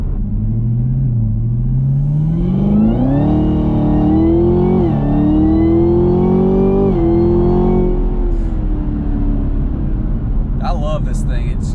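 A ZL1 Camaro fitted with a cold air intake accelerates hard, its loud engine note climbing through the gears with supercharger whine and a few downshifts, nearby and steady. Talk runs over it at the end.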